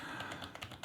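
Typing on a faulty computer keyboard, a quick run of light clicking keystrokes heard faintly and alone, with no voices.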